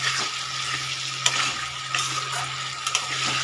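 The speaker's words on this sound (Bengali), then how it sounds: "আলুটা আমি পুরোটা দিয়ে আমি ভালো করে কষিয়ে নেব" Potatoes sauté in spices in a hot pan with a steady, fairly loud sizzle. Occasional stirring scrapes and taps sound throughout, with a low constant hum beneath. No one speaks.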